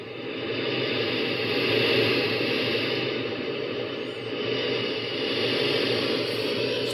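A filtered, synthesized ocean wave played on an Ensoniq EPS 16 Plus sampler, heard as a continuous soft hiss of noise with slow, gentle swells, duller than an unfiltered wash and with nothing else over it.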